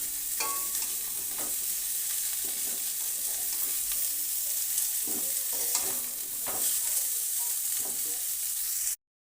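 Cauliflower frying in a pan gives a steady, bright sizzle, with a spatula scraping and stirring in irregular strokes, close and continuous with no talking, stopping abruptly at the end.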